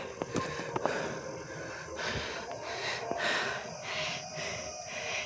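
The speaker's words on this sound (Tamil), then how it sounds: "பாடவும் முடியலைங்க, மூச்சு வாங்குது." Heavy, labored panting while climbing the hill steps to the Nainamalai Varadaraja Perumal temple, with repeated rough breaths close to the microphone over steady outdoor background noise.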